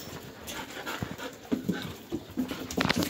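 Close, rapid panting from dogs, breathy and continuous, with a few snuffles and shuffling movements nearby.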